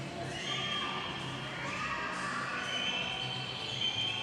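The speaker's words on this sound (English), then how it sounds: "You can hear the crowd willing her on." A large crowd cheers and roars continuously at the 2021 Olympic swimming trials, urging on swimmer Danae Coetzee; loud, dense and sustained throughout, with shouting voices rising over a steady wash of noise.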